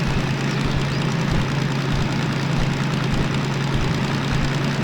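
DM3 diesel locomotive engine running in the Derail Valley train simulator game, a steady loud low rumble with a constant droning hum and dense rattling texture, unbroken and without talk.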